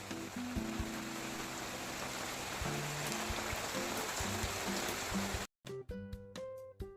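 Steady rain hisses evenly throughout, with sustained tonal notes sounding over it, until an abrupt cut leaves a short stretch of sharper, plucked-sounding tones.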